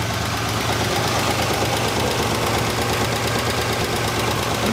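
A 1966 Oldsmobile Delta 88 coupe engine, its top end recently rebuilt, idling steadily with a slight ticking knock, loud and close with a constant low rumble throughout.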